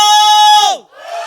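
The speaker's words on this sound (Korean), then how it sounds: "주님께 함성!" At a Sunday church service, the congregation lets out a loud, sustained shout and cheer, close and full, which fades and then swells again briefly.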